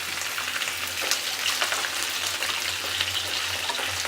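Onion and capsicum frying in hot oil in a pan for chilli paneer, a steady close sizzle with crackling pops throughout and no talk.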